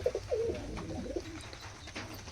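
Giribaz pigeons coo in a loft, several soft throaty coos in the first second followed by quieter murmuring and faint background noise, with no talking.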